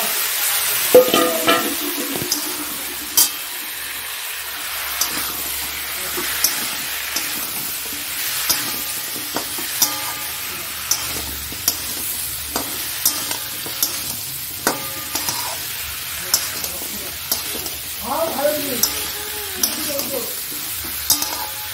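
Ingredients fry and get stirred in a pan, a low sizzle running throughout with repeated short scrapes and clinks of a utensil against the pan, close by and with no talk.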